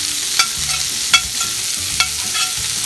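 Cashews and grated ginger frying in a pan, a steady soft sizzle broken by a few sharp scrapes of a spoon stirring against the pan, close and alone.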